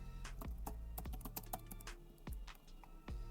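Someone types an email address and password on a computer keyboard, a steady run of close, crisp key clicks with short pauses between bursts and no talking.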